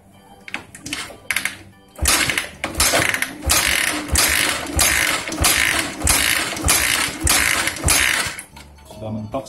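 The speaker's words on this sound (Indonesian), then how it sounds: "kita siapkan kickstarter, lalu grip gas kita putar penuh" A motorcycle engine being kick-started with the throttle held fully open during a compression test: a run of loud, rhythmic mechanical thumps and clatters repeating about once a second, close up, with no talking.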